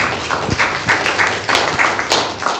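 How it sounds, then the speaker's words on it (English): An audience at a church gathering gives a round of applause: steady, close, dense clapping that carries on for a few seconds with no talk over it. "Can we give Anne a round of applause?"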